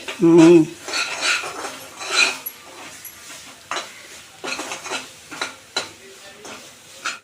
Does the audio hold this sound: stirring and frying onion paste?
yes